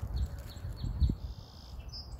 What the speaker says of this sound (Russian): Слышите, как поют птички?